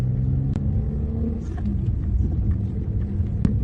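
A car pulls away as the driver eases off the clutch and presses the accelerator, a steady low engine rumble with a couple of faint sharp clicks over the top.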